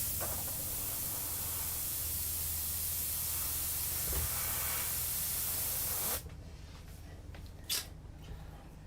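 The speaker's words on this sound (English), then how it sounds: "we just gotta spray the part that I feel like didn't work out" Spray paint from an aerosol can hisses in one steady, close, unbroken blast for about six seconds, then cuts off, leaving quiet with a few faint short bursts.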